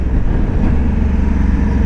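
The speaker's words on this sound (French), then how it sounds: "on va commencer à rétrograder à la gâchette pour entendre un peu le moteur quand même." Engine of a Yamaha Tracer 9 GT or Honda NT 1100 touring motorcycle with a DCT gearbox being downshifted by trigger on the road, a loud, close, continuous low rumble with slight fluctuations throughout.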